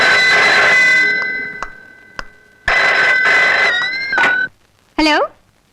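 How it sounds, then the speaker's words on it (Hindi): A telephone rings in bursts, a loud trilling bell repeating a few times with short gaps, followed by a warbling electronic tone. "आपका टेलीफोन है।"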